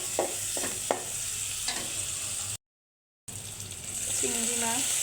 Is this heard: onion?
yes